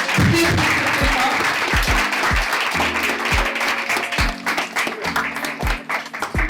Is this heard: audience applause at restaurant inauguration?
yes